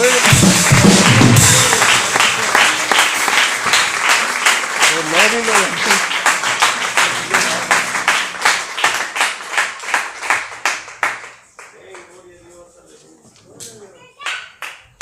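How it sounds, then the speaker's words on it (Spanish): A church congregation claps in a steady rhythmic beat, loud at first and thinning out toward the end, with voices and children's chatter mixed in. "Denle un aplauso, hermano"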